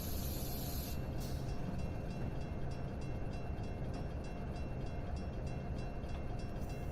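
An ALCo PA diesel locomotive in a train simulator game, running on the New York Central line between Boston and Albany, gives a constant dense rumble with rail noise, a brief hiss of air at the start, and no talk.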